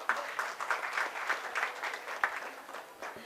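At a convocation ceremony, an audience gives a round of applause for the chief guest. The individual claps stand out sharply within a moderate, steady ovation, with no speech.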